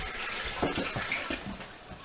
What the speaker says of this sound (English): He just flushed the toilet. The water works too.